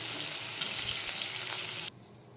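Cauliflower pieces fry in hot oil in a wok, a dense steady sizzle that holds loud and close for nearly two seconds before cutting off abruptly.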